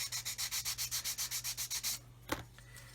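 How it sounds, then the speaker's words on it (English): A Hobby Boss 1/35 scale model kit floor section rubbed on sandpaper in about a dozen quick, even strokes, close and clear, followed by a soft knock and quiet. "So it's not square yet, so I need to sand"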